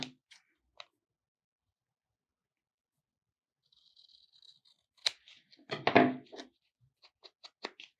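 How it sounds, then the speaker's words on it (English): Scissors trimming paper for a gothic fairy tale craft folio, a few sparse close snips and rustles amid quiet, with a short burst of paper crinkling and then several sharp separate cuts. "It just needs a little bit of a trim at the front again."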